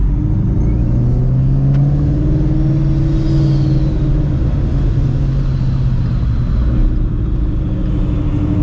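Procharged 700 hp Shelby GT350 under steady engine drone during a race, a loud continuous low rumble with faint high whistle; no distinct blow-off valve burst stands out.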